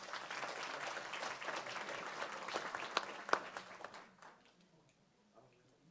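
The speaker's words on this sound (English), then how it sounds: "Another round of applause." Applause from an audience at a school board of education meeting, steady sustained clapping with a few sharper claps near the end before fading out to quiet.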